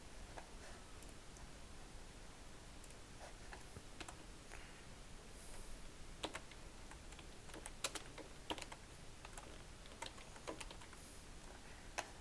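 Keys clatter on a computer keyboard in quick, irregular bursts of soft clicks with brief pauses between, close-up and fairly quiet, with no one speaking.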